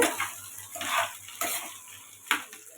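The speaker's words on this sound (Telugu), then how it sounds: "తరిగుంచుకున్న దొండకాయ ముక్కలు వేసి ఇలా కలుపుకోవాలండి" Chopped ivy gourd (tindora) pieces being stirred in a frying pan, repeated close scraping and clinking of a spoon over a light sizzle.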